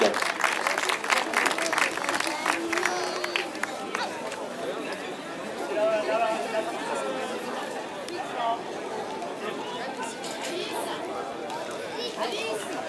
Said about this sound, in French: les applaudissements du public pour les Benjamins et Benjamines.